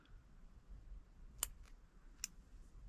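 Scissors snip yarn while a crocheted granny square purse is being lined, giving two short, crisp clicks spaced about a second apart over faint room noise, close and quiet.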